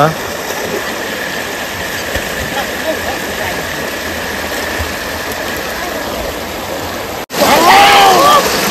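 Stream water on Biring Khola rushing into a small dam, a steady broad gushing roar close by, with a voice talking over it near the end.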